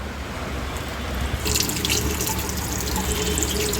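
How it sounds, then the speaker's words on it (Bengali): Running tap water splashes steadily as soil is washed off the roots of an adenium plant being repotted, a continuous close rush of water that grows brighter and fuller partway through. "ভালো করে পরিষ্কার করে মাটিগুলো ধুয়ে নিলাম।"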